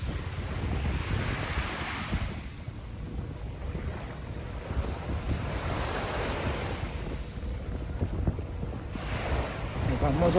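Caribbean Sea waves wash onto the beach at Guayanilla, Puerto Rico, rising and falling in broad surges mixed with strong wind buffeting the microphone, fairly close and steady for the whole stretch.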